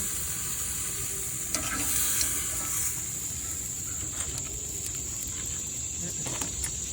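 A beef steak sizzles quietly in a pan, a soft steady hiss with occasional faint pops and utensil taps, at a low level throughout.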